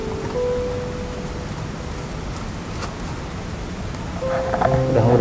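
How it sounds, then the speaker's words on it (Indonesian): Steady morning rain falls in a forest near a field being hoed for ginger, a constant even hiss that swells slightly louder toward the end. "Nah, masih pagi udah hujan aja ini."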